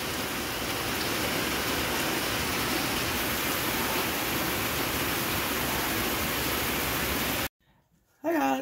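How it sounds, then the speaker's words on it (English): Pouring rain outside a mobile home makes a loud, dense, unbroken hiss for about seven seconds before cutting off abruptly, followed by a brief near-silence. "Pouring rain."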